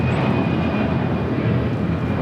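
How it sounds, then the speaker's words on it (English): A Qantas Airbus A380 is moved across the apron toward the Qantas hangar at Los Angeles International Airport, giving off a steady, fairly loud low roar and hum of aircraft machinery with no talk. "As they continue to move this Qantas A380 over to the Qantas hangar."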